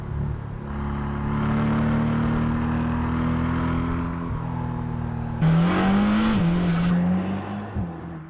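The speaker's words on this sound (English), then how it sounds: "a switch from the cross-plane crank to a flat-plane crank, making the car sound very different from the rest of the AMG GT range" A Mercedes-AMG GT Black Series with its flat-plane crank V8 revs hard and accelerates through the gears, a loud rising howl broken by shifts and a sharp jump to a higher-pitched scream before easing off.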